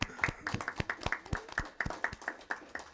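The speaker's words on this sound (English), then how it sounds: "that deserves a round of applause." A small scattering of hand claps at a school board meeting, a handful of people clapping in a quick, fairly even rhythm, moderately close and alone without talk.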